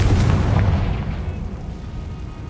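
A Confringo fire spell blasts in the video game Hogwarts Legacy on PS5, making a loud, deep boom with a rumbling burst that fades slowly over a couple of seconds. No one speaks.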